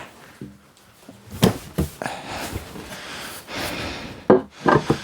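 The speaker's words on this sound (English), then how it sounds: "bring this table up, flip it upside down" Wooden dinette table in a 2025 Starcraft Autumn Ridge 182RB travel trailer being lifted and flipped, giving a few close knocks, thumps and scraping rubs with quiet pauses between.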